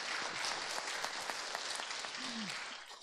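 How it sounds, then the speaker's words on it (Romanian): A room full of people gives a round of applause at a school team event, steady dense clapping that holds throughout and eases slightly at the very end, heard alone without voices. "Dați-le un rând de aplauze"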